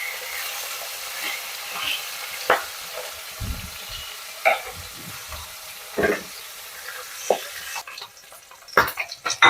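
Pabda fish sizzle and fry in hot oil in a wok, a steady crackling hiss broken by sharp clinks and stirring taps, close and fairly loud with no talk.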